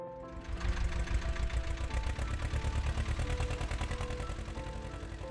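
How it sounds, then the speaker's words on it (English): A heavy diesel tractor engine runs steadily at close range, with a low rumbling throb and a rapid mechanical knock that persists throughout. "The sound of that tractor means it's time for us to get to work."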